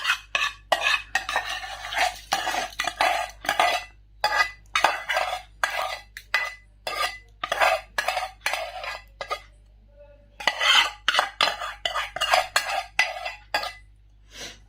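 A spoon scrapes and clinks steadily through a cauliflower pickle mixture in a bowl, with repeated short stirring strokes in an irregular rhythm, close and fairly loud, briefly pausing near the end before resuming; no one speaks.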